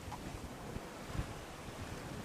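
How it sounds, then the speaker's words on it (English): Wind of about 12 knots buffets a sailboat under both sails with the engine off, and waves wash and slap against the hull in a steady, breezy rush with occasional thumps. "We've got about 12 knots of wind."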